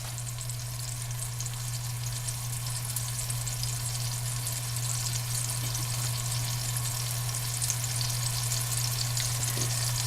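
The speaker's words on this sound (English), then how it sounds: "if you can hear me over the sizzle in the oven" Meat browns in a pot roast pot with a steady, close sizzle and a constant low hum underneath, with no talking.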